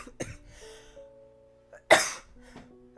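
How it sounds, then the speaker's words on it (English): Two sharp coughs ring out indoors, a short one near the start and a louder, harsher burst a moment later, set against quiet room tone with faint tonal background sounds. "Oh, weird cough that one was."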